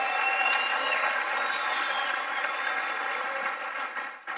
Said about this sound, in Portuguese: Uma salva de palmas para esses empresários.